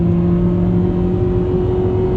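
A Honda Aerodeck VTi-S engine revs high and holds, a loud, close, steady mechanical drone with a strong constant tone and no voices over it.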